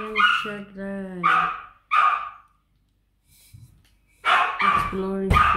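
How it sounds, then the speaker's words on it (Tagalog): A dog barks in short bursts between stretches of talk from a woman indoors, the yaps loud and close, with a quiet pause in the middle. "Ang ingay ng aso."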